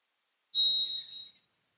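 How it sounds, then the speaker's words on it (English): A referee's whistle at a high school volleyball match gives one clear, steady shrill blast about a second long in an otherwise quiet moment. "And there's the whistle for Payton."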